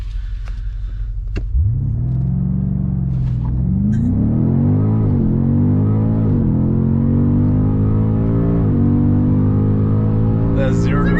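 A 2021 BMW M5 Competition launches hard from a standstill up a slight incline, engine roaring loud and close as it climbs through several rising gear sweeps with brief shift breaks, people talking inside the cabin.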